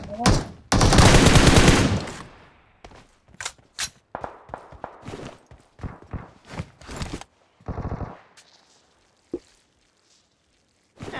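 Bursts of rapid gunfire in the mobile battle-royale game PUBG Mobile: a long, loud automatic volley up front, then a string of sharper single shots and short bursts mixed with footsteps, with quieter gaps between.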